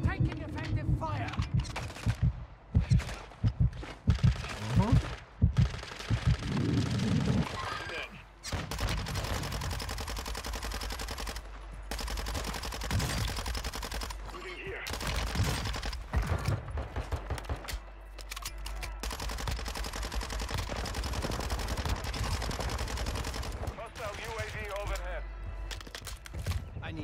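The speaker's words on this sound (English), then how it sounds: "Taking effective fire." Heavy automatic gunfire from a Warzone 2 match with the Kastov 545 rifle, dense bursts and rapid volleys loud and continuous throughout, with explosions and a voice speaking over the chaos.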